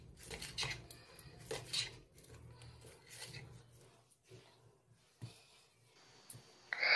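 A knife cutting spring onions lengthwise on a board, with a series of close irregular taps and clicks separated by short quiet gaps.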